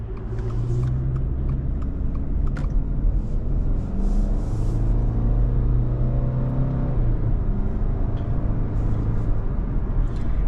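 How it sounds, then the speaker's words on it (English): A 2023 Subaru Legacy Premium with a CVT accelerates under a steady engine drone and road rumble, its pitch rising and easing through smooth simulated gear shifts, heard continuously from inside the cabin. "the CVT's simulated shifts are pretty smooth"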